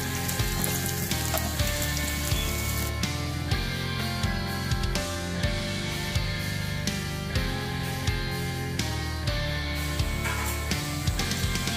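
Paneer frying in a pan, a loud, continuous crackling sizzle that runs throughout, with dense pops over a steady hiss and no talking.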